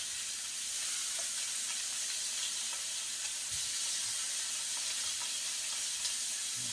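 Shrimp sizzling in hot oil in a frying pan, a steady, fairly faint hiss and crackle running throughout with a few soft low bumps, no talk.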